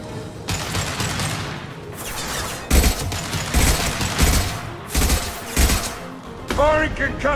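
Weapon fire during a Mass Effect 2 firefight, including a concussive shot, heard as several sharp, heavy bursts and booms spaced a second or so apart over ongoing combat noise.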